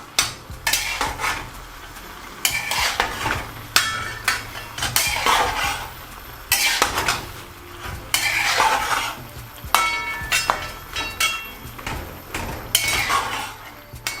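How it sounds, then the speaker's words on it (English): A spoon scrapes and clanks steadily against a pot while lamb keema karahi with tomatoes and a little water is stirred, the close metallic strokes coming in repeated bursts over a faint simmer, with no talk. "Just gonna mix that before we cover it."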